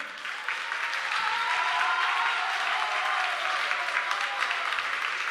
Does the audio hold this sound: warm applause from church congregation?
yes